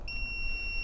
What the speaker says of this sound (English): the buzzer can be quite annoying